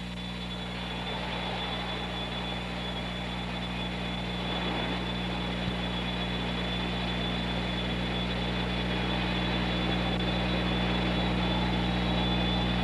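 A continuous airplane cabin roar from a 1970s airliner, loud and steady with a deep engine hum and broad rushing air noise, no voices.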